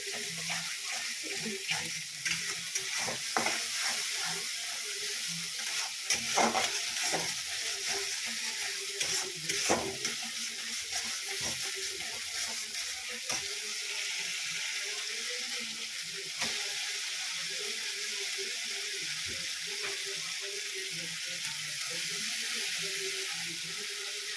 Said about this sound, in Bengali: আস্তে আস্তে মশলাগুলো দিয়ে ভেজেই যাবে ভেজেই যাবে